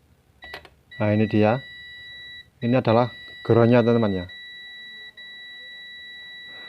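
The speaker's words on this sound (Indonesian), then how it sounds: "Kalau bip bunyi, otomatis dia adalah groundnya" A continuity tester beeps steadily while probing for a ground point on the metal body of an old analog TV tuner, a thin high tone running across the whole stretch beneath someone speaking in bursts nearby.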